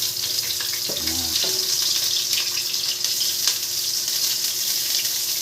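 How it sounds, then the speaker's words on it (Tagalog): Garlic, then onion, sizzles steadily in a pan for a tuna sinigang cooked with miso, a close hiss with a brief clatter near the start. "Tara po at umpisahan na nating maggisa"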